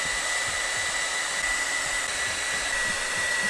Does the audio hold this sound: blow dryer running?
yes